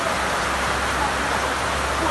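Heavy rain pours steadily during flooding in Jamaica, a dense, continuous hiss close to the microphone that holds even for the whole stretch without any pause.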